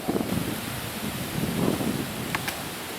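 Strong, steady headwind gusting across an open disc golf course, a broad continuous roar and buffeting against the microphone that swells slightly midway, with no voices.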